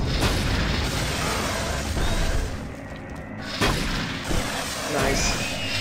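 Heavy booming blasts fill Doom 3 on the Xbox 360, a dense roaring wash with a few distinct bursts rising out of it, loud and close, like a shotgun firing amid chaotic combat noise.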